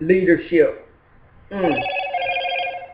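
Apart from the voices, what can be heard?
phone ringing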